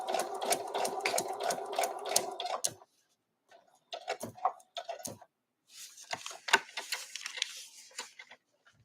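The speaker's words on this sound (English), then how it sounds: "Put my needle back down and I'm just going to sew, stitch to the end of that Y." A sewing machine stitching embroidery with a zigzag stitch, running in rapid rhythmic bursts of needle ticking and motor whir with short pauses between runs, close and fairly quiet.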